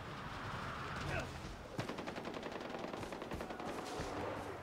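Rapid automatic gunfire crackles in a Far Cry 4 multiplayer match, dense bursts and single loud shots layered over continuous game noise, with a voice talking underneath.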